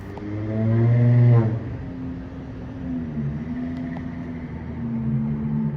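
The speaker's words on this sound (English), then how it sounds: "Listen to this car or truck or whatever it was." A car or truck passes at close range, its loud engine tone rising and sliding downward as it goes by, then fading into a steady low rumble with no voices.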